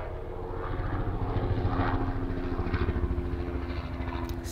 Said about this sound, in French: Excusez-moi pour ce petit hélicoptère.